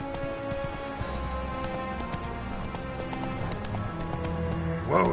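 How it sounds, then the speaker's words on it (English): Horse hooves clip-clop steadily in The Witcher 3 video game, an even trotting rhythm layered over a busy ambient game soundscape, with a brief louder burst near the end. "Whoa there, Roach."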